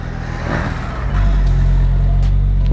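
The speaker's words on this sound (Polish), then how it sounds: "Jeszcze jedno przyspieszonko." An Audi R8 V10 GT Spyder builds from a rumble into a loud, sustained roar as it accelerates hard, heard close and without talk.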